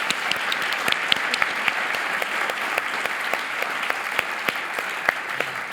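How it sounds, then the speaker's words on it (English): A large audience at a healthcare net zero plenary session gives a big round of applause, steady dense clapping that stays even and sustained throughout, with individual sharp claps standing out. "let's do a big round of applause first"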